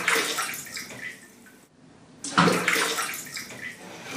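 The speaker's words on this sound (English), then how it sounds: "Oh, it's raining." Rain falls steadily in the jungle of Koh Chang, Thailand, a dense hissing wash of water that dips briefly to near silence before returning just as strong.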